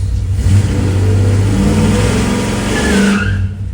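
A Plymouth Cuda engine runs hard against the foot brake during a torque converter stall test after a new converter and valve body were fitted. It is a loud, close, sustained rev that holds steady for about three seconds, then drops away.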